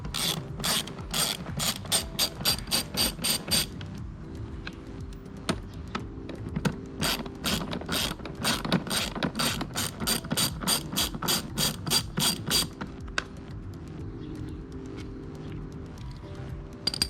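Rapid clicking of a ratchet wrench working screws loose on a Ford Focus during an AC evaporator replacement, several long bursts of quick, even clicks close up with brief pauses between.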